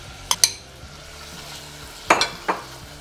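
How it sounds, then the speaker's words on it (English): A utensil stirs peanut butter and grape jelly as they melt in a hot pan. Soft sizzling runs throughout, with a few sharp scrapes and clinks against the pan close by. "We're pretty much just melting down this peanut butter and getting that jelly melted down as well to get a good saucy consistency."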